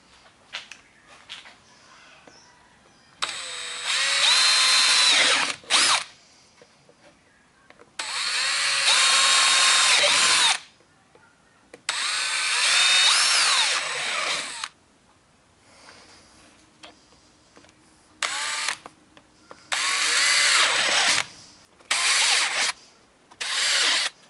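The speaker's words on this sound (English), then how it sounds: "these are all the holes that I'm going to drill for the sand to fall out." Power drill boring holes through PVC pipe while building a non-metallic sand scoop, heard in repeated loud bursts of a few seconds each with short quiet pauses between them, close by and without talk.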